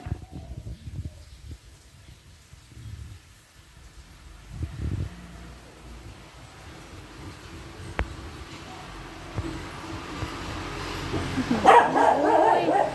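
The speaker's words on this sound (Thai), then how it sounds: "อย่าเห่าน้อง" A dog barks in short bursts at a squirrel eating an orange nearby, the barks moderately loud over a quiet outdoor background, with a louder flurry near the end.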